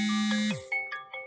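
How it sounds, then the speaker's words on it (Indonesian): A phone rings with an incoming call, a sustained electronic tone that bends downward and gives way to a few short melodic chimes, close and clear with no speech. "wait, ada yang telepon."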